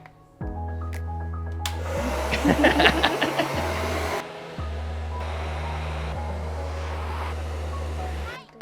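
Hair dryer running on medium heat and high speed while drying hair extensions: a loud, steady close-up roar with brief cutouts and speed changes, and airy rushing bursts as it moves over the hair, with little talk.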